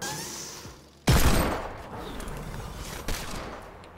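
Video-game gunfire in a tournament match: a sudden loud burst of rapid shots followed by a decaying roar and a second, smaller shot a couple of seconds later.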